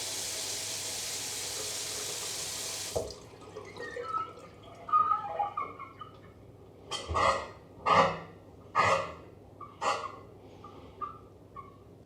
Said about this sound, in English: There's a loud, distinctive noise when running the tap and after using the shower.